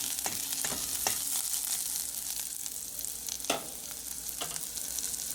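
Snap beans (bodi) frying in a pan for a Trinidad-style dish give a steady loud sizzle, with a few sharp scrapes and clacks of stirring spread through, no talk.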